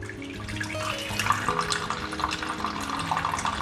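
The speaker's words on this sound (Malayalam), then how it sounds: "ഇപ്പോൾ ഇതാ നമ്മുടെ ജ്യൂസ് നമുക്കൊന്ന് അരിച്ചെടുക്കാം" Raw mango juice streams and splashes steadily through a strainer, a close, continuous pouring sound.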